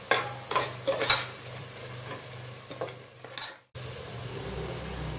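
Stirring in a pan of frying ingredients while cooking butter bean and peanut rice, with a steady sizzle under several scraping strokes of a spoon, close by, ending in a brief cut before the sizzle resumes.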